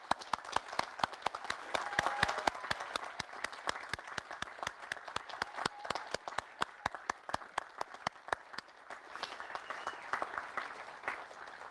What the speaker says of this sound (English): we're all going to give them a big applause and a thank you.